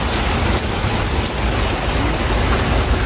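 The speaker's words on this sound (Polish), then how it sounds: "Tak jak znowu pada." Steady, dense rain pours down, a loud continuous hiss close by, with no voices over it.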